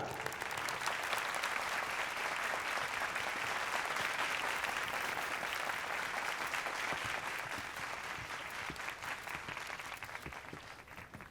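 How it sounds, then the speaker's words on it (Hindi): An audience claps steadily for a guest of honor, a spice-brand tycoon, at a staged ceremony; the dense applause holds at an even level for about eleven seconds before thinning slightly at the end. "तालियां"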